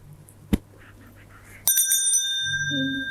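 A single bright bell rings out sharply and lingers with a ringing tone, preceded by a brief thump and some faint rustling.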